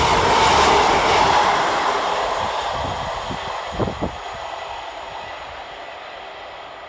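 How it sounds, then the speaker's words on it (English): A Northern class 150 diesel unit runs through Outwood station, its rumble loud at first and gradually fading as it moves away, with a couple of clacks from the wheels over rail joints partway through. "Whilst coming in the opposite direction for Northern is 150277, working 2 Alpha 11 from Leeds to Nottingley."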